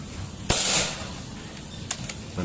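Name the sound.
PCP mini folding air rifle shot hitting metal target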